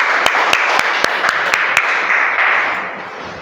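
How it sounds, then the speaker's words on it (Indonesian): A classroom gives a short burst of applause for group 3, with sharp hand claps spaced roughly a quarter second apart in a steady rhythm over a wash of lighter clapping that fades out toward the end. "Kita beri aplaus untuk kelompok 3."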